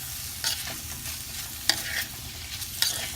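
Onions and tomatoes fry in a clay pot for village-style chicken biryani, a soft steady sizzle broken by several sharp scraping stirs of a spoon against the pot, close up with no talking.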